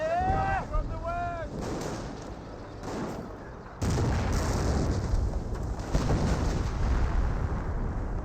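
Artillery fire hits in Company of Heroes, a World War II strategy game, with loud booming impacts and rumbling explosions over a dense battle din, and a voice talks over the opening.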